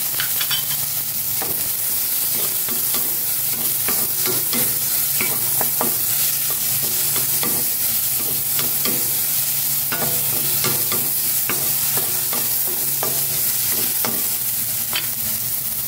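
Garlic, onion and tomato sautéing in a pan before pechay goes in, with a steady bright sizzle and frequent stirring scrapes and clinks throughout, close and loud with no talking.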